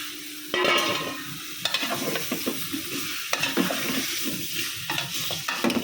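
Pumpkin is added and stirred into a fried spice paste in a pot, producing close, continuous sizzling with repeated scraping and clattering strokes of a spoon.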